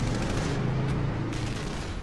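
Dense gunfire from the 1997 North Hollywood shootout, a sustained crackle of rapid shots and bursts, loud and continuous with no pause and no voices.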